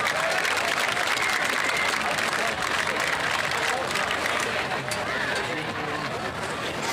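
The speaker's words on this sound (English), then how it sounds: "let's give all our Cyclone senior athletes one more round of applause" Crowd applause for senior athletes at a high school senior night event, a dense, steady roar of clapping and cheering that holds loud and continuous throughout, with some voices mixed in.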